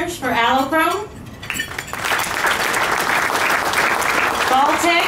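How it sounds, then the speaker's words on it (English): Applause from an event audience for award participants, a dense, steady clapping that swells after a spoken announcement and continues loudly, with a voice briefly heard over the start and end. "if I could get some applause for all of them, that'd be great"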